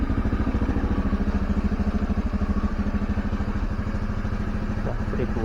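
A carburetor Honda Scoopy scooter engine idles without throttle, a steady, even putter close by and unchanging for a few seconds.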